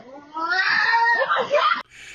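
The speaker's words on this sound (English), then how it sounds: "Listen to this cat coming in here" A cat yowls outdoors in a long, wavering, siren-like wail, loud and close, rising and falling in pitch before cutting off abruptly.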